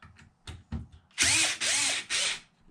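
A power drill spins out the upper control arm bolts on an Arrma Felony 6s RC car, three loud high whirring bursts with pitch swoops, after a few small clicks of handling.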